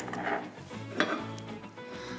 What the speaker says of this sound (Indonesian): Aduk adonan terlebih dahulu sebelum memasukkan ke dalam teflon.